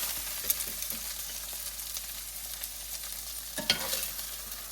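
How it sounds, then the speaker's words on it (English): Okra fries in a pan with a soft, steady sizzle while a utensil stirs it, adding scattered scraping taps close by, with no talking. "we'll have to fry these for a few minutes"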